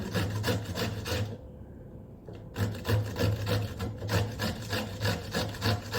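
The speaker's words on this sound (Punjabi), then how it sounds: "ਬਸ ਮਾਂ ਕੱਦੂਕਸ ਕਰਨ ਨੂੰ ਇਹ ਟਾਈਮ ਲੱਗ ਜਾਣਾ ਹੈ" Vegetables being grated by hand on a metal hand grater in a home kitchen, a steady rhythmic rasping scrape repeating close up, with a brief pause partway through before the strokes resume.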